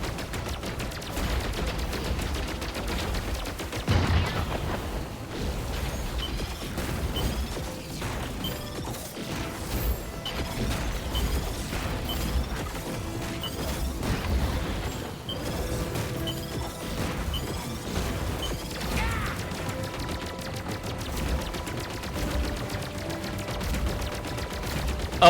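Rapid blaster fire from aircraft in the flying game Wildblue Skies, a continuous stream of sharp mechanical shots and crashes with bursts of tapping fire over a steady busy game soundscape, no talking.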